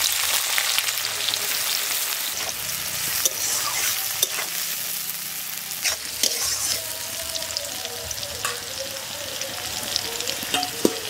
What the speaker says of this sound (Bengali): ওই তেলের মধ্যে পেঁয়াজগুলো এবার ভেজে নেবো,